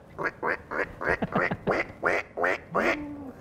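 Cartoon ducks, a mother duck and her ducklings at a riverbank, quack in a quick rhythmic series of about nine or ten nasal calls, loud and close, with no talking over them.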